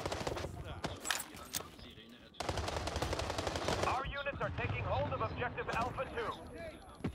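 Rapid bursts of video game gunfire crackle loud and close, automatic volleys repeating over several seconds, with a voice talking over the shooting.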